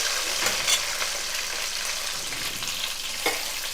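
Onions, green chillies and curry leaves fry in a pan with a dense, continuous sizzle and occasional scraping stirs, close and fairly loud, with no voices.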